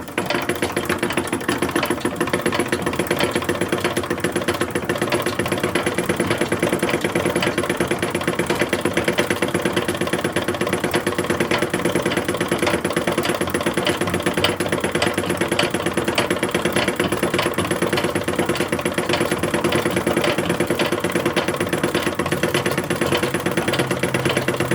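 A chain-stitch sewing machine without a bobbin runs a seam on a sheer dress for an 1860s porcelain doll, making a rapid, even mechanical whir and clatter that continues at a constant pace throughout, close by, with no voices.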